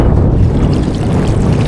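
Strong wind buffets the microphone outdoors beside a bridge while fishing in Taiwan, a loud, constant low roar and rumble that fills the whole moment without a break.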